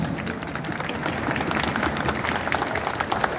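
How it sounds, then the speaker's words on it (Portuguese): Audience applause at a 2023 glam ball fills the room, a dense, steady wash of many hands clapping that stays loud and even from start to finish with no pauses. "E eu quero pedir uma salva de palmas para eles."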